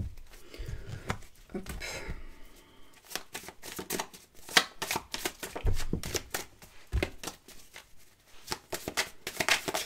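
A deck of tarot cards is shuffled by hand in bursts of quick riffling snaps and soft slides, close up and fairly quiet, with brief pauses between rounds.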